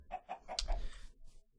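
A chicken in the video game Minecraft gives a short run of clucks, four quick soft notes followed by a brief flutter, heard alone at low level.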